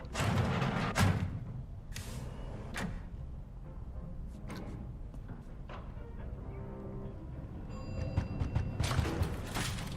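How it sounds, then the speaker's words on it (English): Irregular knocks and thuds sound at a door in Cyberpunk 2077, a series of sharp hits of uneven strength heard close and fairly clear. "Can you stop knocking on the door"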